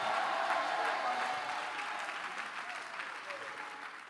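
A church congregation applauds in a loud, dense burst of clapping that slowly thins and fades, with no voice over it.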